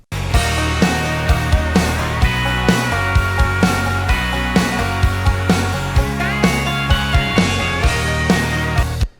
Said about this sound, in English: that's the sound of the acoustic guitar and the banjo